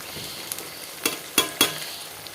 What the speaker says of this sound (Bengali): আর এটাকে দিয়ে ভালো করে নেড়ে নেব